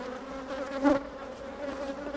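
Honeybees at a red beehive during hive inspection make a soft, steady insect hum that swells briefly near the middle, heard close and alone without talk.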